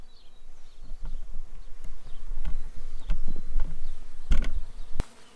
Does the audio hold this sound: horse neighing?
no